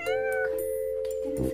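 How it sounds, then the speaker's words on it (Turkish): A small cat gives a single drawn-out, clear meow close by, steady in pitch, ending with a faint rustle. "Bakın miyavlıyor arkadaşlar,"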